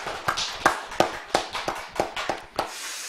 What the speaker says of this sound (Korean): 우리 하나님께 영광의 박수 올려드리겠습니다.